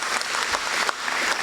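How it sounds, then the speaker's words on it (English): A brief burst of audience applause at a school prize giving day, a dense steady wash of many hands clapping together. "Ladies and gentlemen, that deserves a round of applause."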